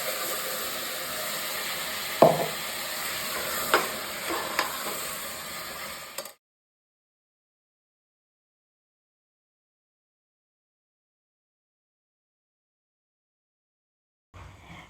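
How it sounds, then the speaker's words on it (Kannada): Vegetables sautéing with salt in a pan for veg biryani give a steady sizzle with a few sharp stirring clanks for about six seconds, then the sound stops and silence follows. "ವೆಜಿಟೇಬಲ್ಸ್ ಎಲ್ಲ ಹಾಕಿದ್ಮೇಲೆ ಸ್ವಲ್ಪ ಸಾಲ್ಟ್ ಹಾಕಿ ಬಾಡಿಸ್ಕೊಳ್ಳಿ"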